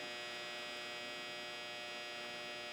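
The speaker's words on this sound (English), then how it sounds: "That's my dryer." A clothes dryer runs nearby with a steady, even mechanical hum and dense whirring drone, unchanging throughout.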